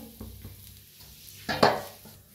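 A chapati roasts on a hot pan with soft sizzling and a few light scrapes and taps, ending in a louder brief clatter, close and without talk.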